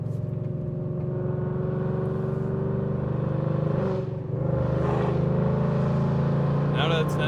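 An 850HP Mustang on all-season tires cruises a winding road, its engine a steady low drone with a brief dip and swell of revs near the middle.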